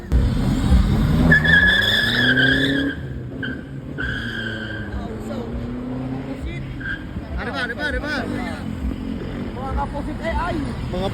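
A Honda Civic launches hard from a standstill, its engine revving up loud and close as tires squeal briefly, then settling into a steadier drone while several people talk and exclaim over it.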